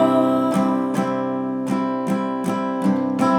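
Acoustic guitar strums the chorus of a song in open A tuning, with a steady pattern of ringing chord strokes accented roughly every half second, close and alone with no voice.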